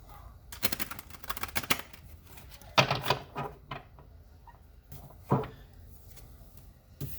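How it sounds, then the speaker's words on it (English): Tarot cards being shuffled by hand during a full moon reading, quiet riffling and soft clattering taps in short bursts, close and alone without talk. "one more shuffle."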